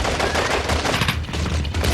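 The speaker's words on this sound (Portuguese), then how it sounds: "Inicia-se um tiroteio violento." Violent gunfire in a shootout at an airport building during the Munich Olympic massacre, dense rapid bursts of shots with automatic-weapon fire, loud and continuous throughout.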